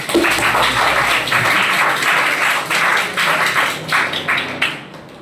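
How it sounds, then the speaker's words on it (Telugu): An audience in a college lecture hall applauds, a dense burst of clapping that carries on and then thins out toward the end. "అపర్ణ మహాదేవ్కి గట్టిగా క్లాప్ కొడదాం."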